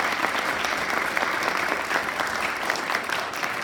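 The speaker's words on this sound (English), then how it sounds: "let's give it a round of applause for Emma, Karen, Daisy, and Joel" Audience applause at a school board candidate forum, a steady, full wash of many people clapping at once, sustained evenly throughout without voices on top.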